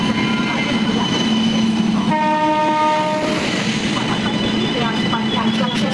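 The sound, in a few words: train arriving at station, horn sounding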